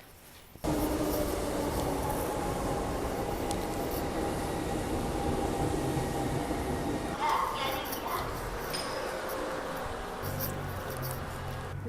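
A subway train carriage fills the scene with a steady, loud rumble and broadband roar that runs without pause, with voices faintly present beneath.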